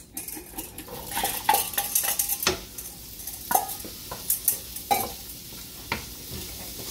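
Onions and garlic sauté in a pan with a constant close sizzle, overlaid by repeated scraping and clattering of a utensil stirring against the metal.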